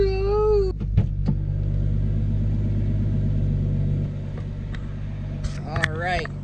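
A Toyota Supra MK3 engine runs at a steady, loud idle with a low rumbling hum, after a fuel pump upgrade; a voice speaks briefly at the start and again near the end over the engine.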